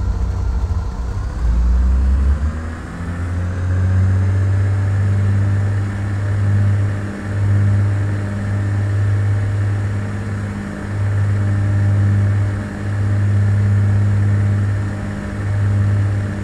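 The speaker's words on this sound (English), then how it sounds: "Let's apply full power with the brakes on." Light aircraft engine at full takeoff power in Flight Simulator 2004, a loud steady droning hum that rises as power comes up, then holds with slight throbbing pulses, alone with no talk.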